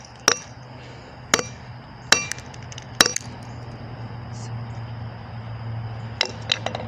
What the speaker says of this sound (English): Well, I'm smashing it with a hammer.